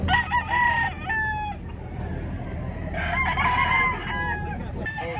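Several gamecocks crow at a busy fighting-rooster market in Lipa, Batangas, overlapping calls rising and falling in long harmonic bursts, strongest at the start and again near the middle, with clucking and steady crowd murmur underneath.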